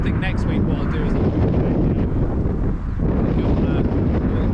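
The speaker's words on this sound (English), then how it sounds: "It's a bit windy today." Wind buffets a microphone outdoors on an open field during metal detecting, a loud, steady low roar and rumble throughout with a slight dip near the middle.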